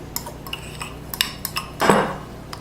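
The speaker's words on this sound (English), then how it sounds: "Place the graham crackers into your pan" Graham cracker crumbs go into a baking pan for a New York cheesecake, making light scattered clinks and taps of utensils against the pan and one brief louder scrape, close and quiet, with no talking.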